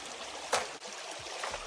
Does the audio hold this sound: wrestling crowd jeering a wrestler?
no